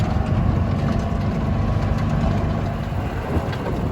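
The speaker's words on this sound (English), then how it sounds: "This is a Cushman with 2 cylinders." A two-cylinder Cushman utility vehicle engine idles steadily with a low, continuous rumble, close and constant throughout with no talking.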